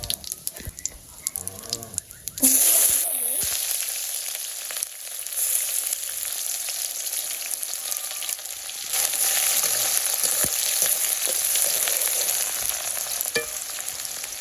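Bay leaf, cumin and radhuni spices hitting hot oil in a Bangladeshi village kitchen burst into a loud, continuous sizzle after a brief quieter stretch, with stirring scrapes through the crackling, no voices.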